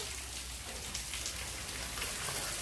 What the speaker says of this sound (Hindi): बारिश के मौसम है, देख सकते हैं